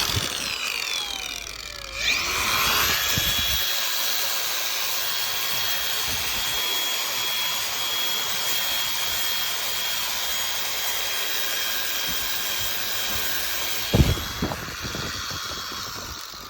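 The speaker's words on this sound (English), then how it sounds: "Then I got a sanding wheel. I'm gonna sand it down just a little bit." A sanding wheel grinds a cast iron pan in a steady, harsh mechanical drone for most of the stretch, with a brief knock near the start and another near the end; no one talks.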